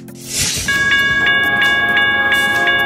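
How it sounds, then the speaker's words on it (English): A container train rolls past with a loud, steady rumble, a sustained high tonal hiss or whine and regular rhythmic clacks repeating about every third of a second. "Container train is a high-capacity railway vehicle that is used to transport containers of goods everywhere in the country and around the world."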